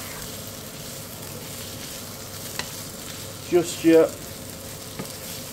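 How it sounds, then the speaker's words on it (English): Ginger and garlic fry in a pan for goat curry, a steady close sizzle under a few stirring scrapes, while someone speaks briefly over it. "we're just going to soften all these down at the same time. Keep stirring"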